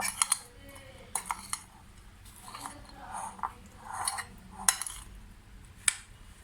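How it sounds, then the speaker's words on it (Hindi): Eggs and potato mixture being stirred in a bowl for a potato omelette, with irregular clinks and scrapes of a utensil against the bowl, fairly close and moderately quiet, without talk. "पहले मैं अच्छा मिक्स कर देती हूँ"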